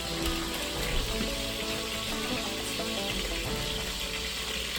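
Frozen peas spill into a hot pan and set off a dense, steady sizzle and crackle that hisses continuously at moderate loudness, with no voices.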